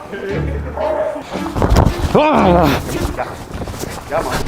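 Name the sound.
dog barking and yipping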